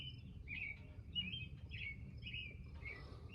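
A bird sings steady repeated chirping phrases over a low background rumble, fairly distant and continuous throughout.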